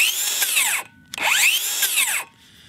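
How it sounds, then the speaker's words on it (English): A DeWalt DCS573B cordless circular saw winds up twice in quick succession, each time a loud, close whine rising sharply then dropping off as the blade spins down, with a brief silence between bursts. "You have to push that in to get the saw to wind up."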